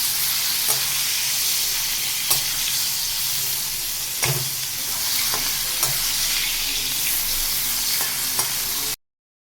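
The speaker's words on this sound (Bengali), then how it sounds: "এবারে এটা তেলে ভাজবো।" Lemon-juice, salt and turmeric marinated prawns fry in hot oil, a continuous dense sizzle close by, punctuated by occasional sharp spatters and stirring knocks, with no talk, ending abruptly.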